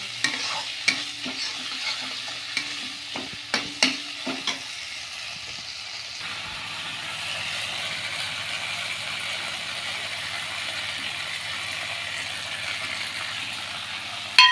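Radhuni spice paste stirred into a thin simmering vegetable curry in a pan, with a few sharp spoon scrapes and knocks early on, then a steady soft sizzle and bubbling that runs alone to the end.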